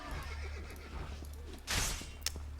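A horse neighs in the Assassin's Creed Brotherhood video game, a loud, bright whinny of about half a second that stands out over a steady low game hum, with a short sharp click just after.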